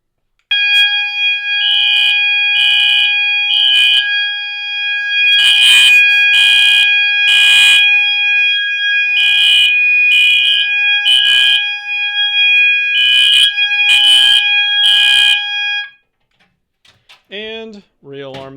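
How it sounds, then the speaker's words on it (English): A fire alarm system with a pull station sounds loudly, a steady electronic tone in repeated pulsing bursts lasting about fifteen seconds before cutting off, followed by a brief faint squeaky sound. "let's re-alarm with this pull station"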